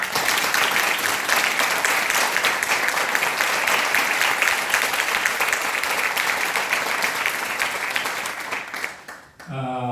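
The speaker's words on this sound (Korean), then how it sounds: "함께 박수로 격려해 주시기 바랍니다" An audience at a Buddhist temple's Buddha's Birthday dharma service applauds in encouragement, a dense, sustained roar of many hands clapping that holds steady for most of its length, dips near the end, and gives way to a voice.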